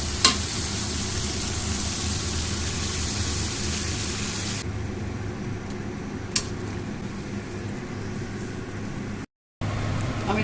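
Broth poured into ripe and unripe tomatoes frying in a pan, a loud continuous sizzle with stirring scrapes; the hiss eases partway through, with a couple of sharp clicks and a brief dropout near the end, no voices.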